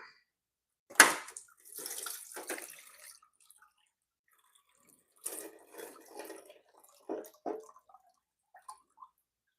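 Water splashing and trickling from a gold prospecting riffle box being pulled out during an outdoor cleanup, in several separate wet bursts with quiet gaps, close by.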